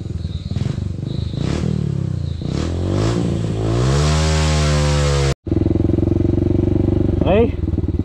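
A motorcycle engine idles roughly, then revs up sharply to a loud, sustained whine before cutting off briefly and settling back to a throaty idle.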